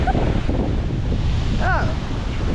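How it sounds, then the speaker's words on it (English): Strong wind on the Icelandic coast, roaring against the microphone in a loud, steady rush with surf mixed in, and a brief voice over it. "Hurricane wind."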